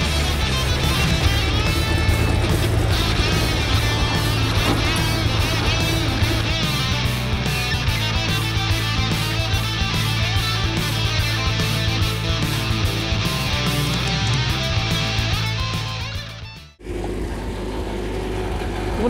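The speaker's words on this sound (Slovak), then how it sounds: "Podľa mňa to má nejaký vysoký voľnobeh." A Fiat 215RB engine runs at high idle, a loud, steady rumble with a continuous mechanical rattle that carries close up before cutting off abruptly near the end, leaving only quiet background.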